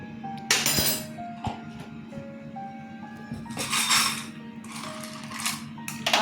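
Peanuts tumble into a pan of hot ghee while making chirer polao, with a burst of clinking and sizzling near the start and more rattling, hissing bursts later over a steady background hum.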